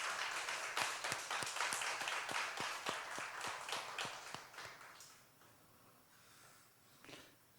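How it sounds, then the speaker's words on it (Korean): A church congregation at a Friday late-night prayer meeting claps to encourage the youth worship singers, a rhythmic, fairly even round of applause that fades out after about five seconds, leaving quiet room tone. "우리 청년들 우리 박수로 한번 격려해 주시기 바랍니다"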